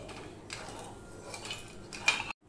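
A utensil stirs raw mango jelly with sugar in a pot over a gas flame, making light, intermittent scrapes and clinks against the pot at close range, with a sharper knock near the end before it cuts off.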